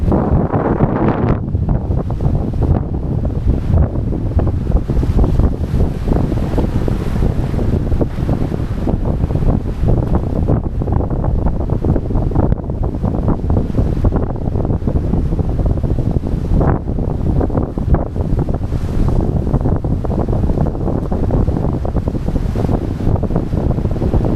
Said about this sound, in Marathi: लाट येते